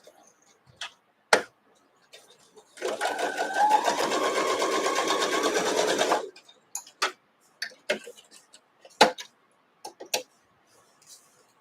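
A sewing machine runs one steady burst of stitching, about three seconds long, sewing a quarter-inch seam on a quilt block. Scattered clicks and small handling sounds come before and after it.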